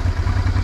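Honda Transalp 600V motorcycle engine running off-road, a loud, close, rough mid-pitched drone with some clatter, in a brief burst.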